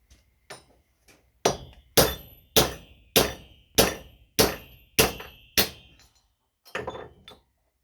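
A heavy hammer knocks a copper slug out of an aluminium heatsink. About a dozen sharp metallic blows land in a steady rhythm, loud and close, with a few lighter taps at the start and end.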